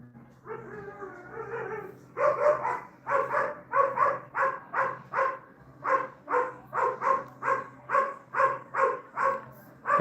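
Rescued beagles from a shut-down Virginia breeding facility bark in a steady, rhythmic run of sharp yips, with a softer whimpering stretch at the start; close and fairly loud.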